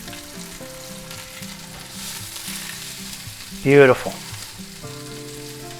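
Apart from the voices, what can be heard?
chicken breasts searing in a pan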